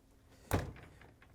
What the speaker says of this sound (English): we can push the upper rack back in and close the dishwasher door